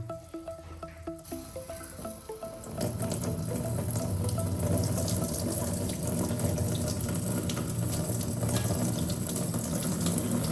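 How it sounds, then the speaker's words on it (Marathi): Rice for kheer rinsed in a sink: a few seconds of soft splashing and handling, then a continuous loud stream of running tap water pouring over the grains. "तांदूळ स्वच्छ धुवून घेतलेलं आहे"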